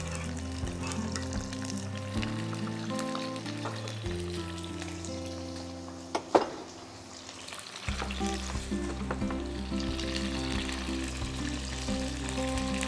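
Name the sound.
tomatoes sizzling in hot oil in pan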